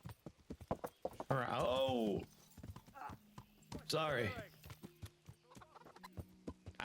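Hooves clip-clop steadily in a quick rhythm in the video game Kingdom Come: Deliverance II while a horse whinnies twice and a person speaks briefly over them.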